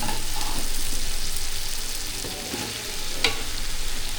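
Mushrooms sizzle and get stirred in a hot frying pot while a mushroom dum biryani is cooked, giving a continuous frying hiss with scraping stir strokes and one sharp clink from a utensil.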